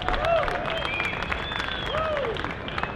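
Audience applause at the HP Discover 2015 tech event for the 3PAR 20,850 all-flash storage array reveal, a steady crowd wash lasting the whole stretch with sweeping tonal whoops or music riding over it.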